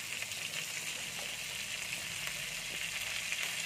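Whole spring onion stalks sizzle in a frying pan, a loud, even crackling hiss that carries on without a break and with no talking.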